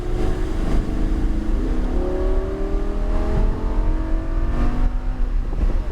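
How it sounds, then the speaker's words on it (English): A car on a course marked with cones accelerates down a straight, its engine note loud and close and climbing steadily in pitch, with no voices. "go all the way to the green and accelerate all the way down the straight"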